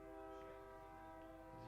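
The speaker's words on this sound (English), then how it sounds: "here comes that train back behind the ballpark" Train passing behind a baseball ballpark during a Tyler vs Panola game, sounding a steady sustained horn tone over a low rumble throughout the short stretch.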